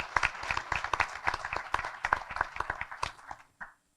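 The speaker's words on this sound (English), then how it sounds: "Let's give them a round of applause" A modest crowd at a city chamber event claps for city staff, sharp individual hand claps close by forming a lively, uneven patter that tapers off and stops near the end.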